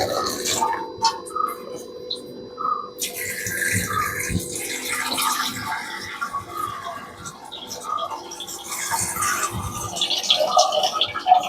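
Water pouring into a pond filter, a steady splashing and gurgling flow with small drip-like plinks, close by with a person talking faintly at moments.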